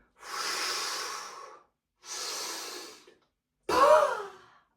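Three forceful bodyflex breathing exhales, the first two long steady airy blows and the third a sharper, heavier puff, each separated by a short silence, close and alone.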